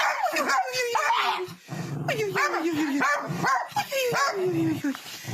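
A dog barks and yelps repeatedly up close, with whining, rising-and-falling cries between the barks and a person talking over it.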